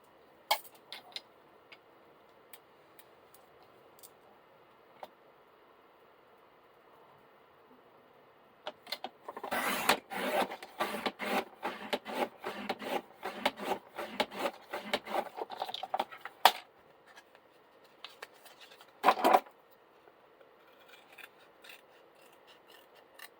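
Material for a DIY desk organizer is cut from one corner to the other: a quiet, rasping run of snips and scrapes lasting several seconds, then one short extra burst after a pause.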